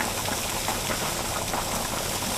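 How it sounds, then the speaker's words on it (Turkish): Pot of bone-in beef stock with vegetables at a rolling boil, a steady close bubbling and rattling hiss that stays even throughout with no voices. "tenceremiz takır takır takır takır kaynıyor"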